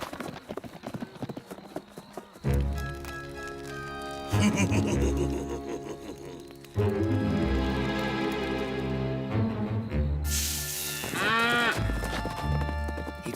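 Cartoon cow in a Lucky Luke animated Western scene, with lowing and animal calls over a busy orchestral score, clip-clop hooves and loud comic sound effects throughout.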